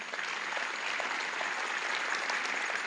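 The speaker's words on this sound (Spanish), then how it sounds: "Dale un aplauso al Señor." Steady applause from a church congregation at a Sunday service, a dense even wash of clapping filling the room for a few seconds with no voices over it.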